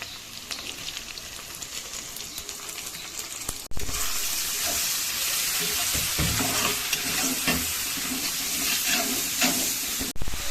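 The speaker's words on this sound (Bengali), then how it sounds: "পেঁয়াজটা অর্ধেক ভাজা হয়ে গেছে, এই সময় আমরা দিয়ে দেব চিংড়ি মাছ।" Prawns frying with half-fried onions in a pan, a steady, close, loud sizzle with occasional stirring scrapes, a sharp knock partway through and the frying growing louder afterward.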